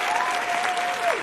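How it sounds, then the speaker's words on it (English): Audience applause greeting a guest on a podcast stage, a steady dense wash of clapping throughout with a faint high whistle or tone gliding above it and no clear speech. "I need the people in the back to be loud and clap and give Dr. Margarita S. Johnson some love"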